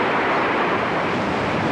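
Loud, dense surf churns against rocky Jeju shoreline in cold rain, where women divers gather seaweed; the continuous roar of breaking waves fills the scene with no voices.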